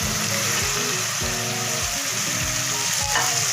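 Spices sizzling and crackling in hot masala for chicken dhaniya, a dense continuous frying hiss with repeated scrapes of a spoon stirring the pan.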